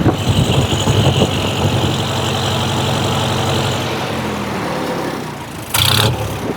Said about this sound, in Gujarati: આ ફૂલ RPM આપી દીધા છે અને તમે અવાજ જુઓ